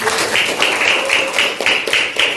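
A classroom of students clapping together in a rhythmic pattern, bright repeated bursts of claps at an even pace, close and fairly loud.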